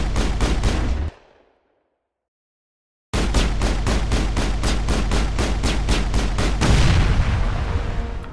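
Rapid automatic gunfire in the video game Mass Effect, loud regular shots in a burst, a two-second silence, then a longer sustained stream of rapid shots.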